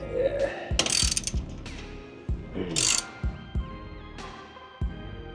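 A ratchet with a deep 15 mm socket tightening a downpipe on an MK7 GLI, heard as several quick clicking bursts with brief pauses between strokes, close and clear.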